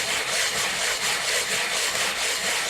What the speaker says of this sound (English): You can hopefully hear from and I can certainly feel that this is quite coarse contact